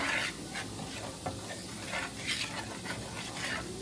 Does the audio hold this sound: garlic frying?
yes